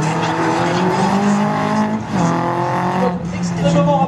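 A race car charges through a slalom course at Agon-Coutainville, its engine roaring steadily with rising and falling revs and brief tire squeal, loud and close throughout, with an announcer's voice over it.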